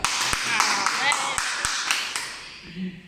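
Brief rhythmic clapping from a school gathering at an exam results announcement, a few sharp claps standing out over a bright crowd patter, with voices talking through it.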